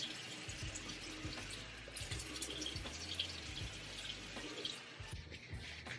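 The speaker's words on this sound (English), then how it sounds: "Warm water." Warm water runs steadily from a tap into a sink, a soft continuous trickle with light splashing and no voices.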